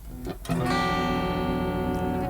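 An acoustic guitar strummed once and left ringing, its chord sounding sour and out of tune, preceded by a couple of quick muted strums.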